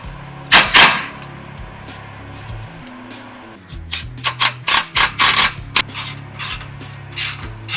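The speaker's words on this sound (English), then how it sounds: "we're going to go and tighten down the clamps" A ratchet wrench tightens the exhaust clamps on a Ford Mustang EcoBoost's Tomei Expreme Ti titanium exhaust. Close, crisp ratcheting clicks come in quick bursts separated by short pauses.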